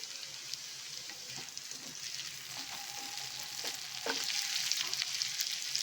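Onions, turning translucent, fry in a pan for a prawn fry with a continuous hiss, along with scattered spoon scrapes and taps, and the sizzle grows louder near the end with no talk.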